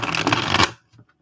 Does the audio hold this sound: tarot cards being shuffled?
yes